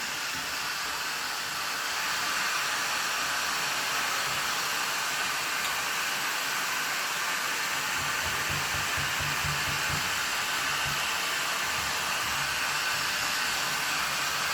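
A Parkside PHLG 2000 E4 heat gun blowing hot air to strip old paint from wood, a loud continuous fan-and-air roar holding steady throughout with faint scraping underneath, no talking.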